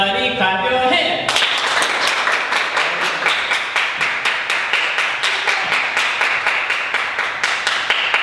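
Talent show audience clapping hands together in a steady, rhythmic beat, loud and close, after a brief moment of music-like tones at the start.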